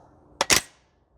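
A Maruyama SCP-9 airsoft gas blowback SMG fires on an outdoor range in a sharp double crack, two quick close shots within a fraction of a second, then quiet.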